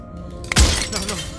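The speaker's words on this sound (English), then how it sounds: "his pleas disappear at the sound of breaking glass" Glass shatters in the video game Slay the Princess: one sudden loud crash with a bright, scattering tinkle of shards that rings out and fades over about a second.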